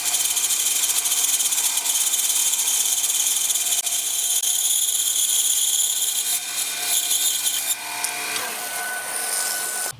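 A bandsaw slices thin wood veneer during a scratch guitar build, a steady loud high rasping whine running continuously for about ten seconds with no talk.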